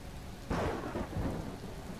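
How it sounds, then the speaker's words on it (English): A sudden crash of thunder over steady rain in Empyrion Galactic Survival, an acid rain storm, with the rumble rolling and fading over a couple of seconds. "Oh, the acid rain."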